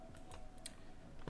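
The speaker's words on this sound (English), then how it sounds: "by pressing Ctrl or Command 8 on my keyboard" Keys pressed on a computer keyboard during a live sticker and poster design session, a few quick, light clicks spaced out over a second against a quiet room hum.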